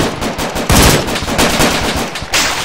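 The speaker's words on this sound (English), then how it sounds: "Where are we getting shot from?" Sustained automatic gunfire in the video game ArmA 3, loud, dense bursts of rapid shots rattling continuously for the whole stretch with no talk.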